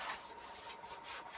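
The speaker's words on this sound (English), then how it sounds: "you just wipe all round, and that gets all rid of all the dust, ready for the give it the next coat of varnish" A tack cloth is wiped around varnished wooden doors on a narrowboat fit-out, lifting fine dust between coats. It makes a soft, steady rubbing swish with gentle rhythmic strokes, close and quiet, with no voices.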